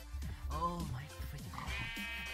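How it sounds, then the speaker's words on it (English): Sheep bleating in the Minecraft video game, a short wavering bleat heard near the start amid a busy mix of game sounds and voices. "Why is the sheep not following?"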